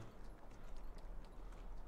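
A horse's hooves clip-clop steadily in a video game, an even run of soft hoof beats close by with no talk over them.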